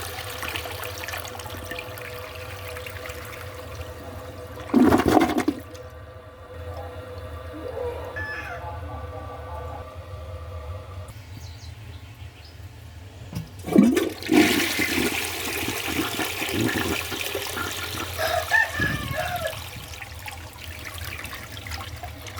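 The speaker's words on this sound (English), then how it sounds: "I'm going to go ahead and flush this a couple times" A toilet being flushed, likely during a cleaning with nitric acid, gives two loud rushing surges about nine seconds apart, each trailing off into gurgling water and a faint trickle, with a brief voice in between.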